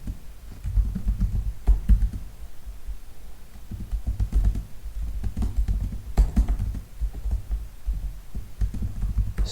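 Computer keyboard typed on while writing Python code, a close run of soft, dull key taps in irregular bursts, steady throughout with no talking.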